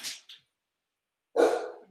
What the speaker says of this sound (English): Excuse the Rottweiler.